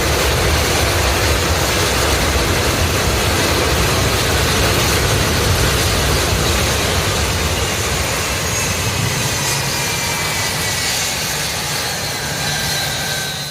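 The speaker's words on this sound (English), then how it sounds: "This US Air Force C-17 pushing back on its own using reverse thrust." A US Air Force C-17 jet pushing back under its own reverse thrust gives a loud, steady jet-engine roar that stays broad and constant throughout, with no talk.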